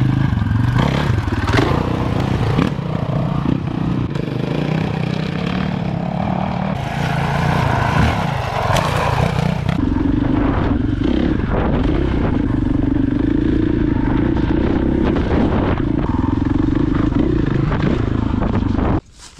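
A KTM 500 dirt bike ridden off-road, its engine loud and close throughout, revving and droning with shifting pitch, plus clattering and scraping from the terrain, no talk.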